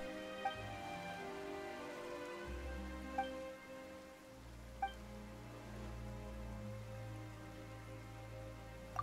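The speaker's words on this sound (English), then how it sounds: "Why is it raining all of a sudden?" Rain falls in the video game Genshin Impact, a soft steady patter with a few louder drop ticks, laid over a low sustained musical drone and no talking.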